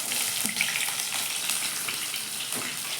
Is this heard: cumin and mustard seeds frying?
yes